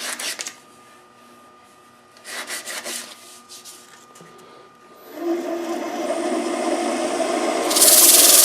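Sandpaper rubs against Arizona ash spinning on a Grizzly G0733 wood lathe, soft hissing scrapes in short passes that swell into a louder, steady rasping whir toward the end.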